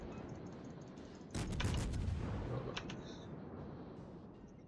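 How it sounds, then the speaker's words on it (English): Naval guns firing on battleships in World of Warships, a dense burst of booming salvos with crackling follow-up shots over a constant ocean and engine rumble, then fading back to the steady background. "Just firing into these battleships here"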